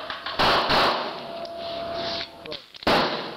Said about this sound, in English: So two rounds with the Kahr P380.